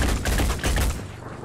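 Gunfire in the video game Phoenix Point, a rapid burst of loud close shots crackling in quick succession, then trailing off into a fading echo.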